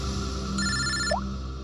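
A phone ringtone sounds once in a short electronic burst, moderately loud over a steady background hum, with no talking.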